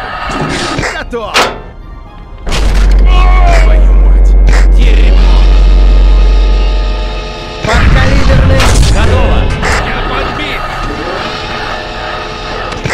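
A tank cannon fires a subcaliber round in the Steel Armor tank simulator game, a loud deep boom with a long rumbling tail, then a second heavy blast, amid cockpit noise and crew chatter.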